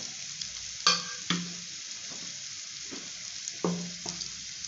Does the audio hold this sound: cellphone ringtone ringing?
no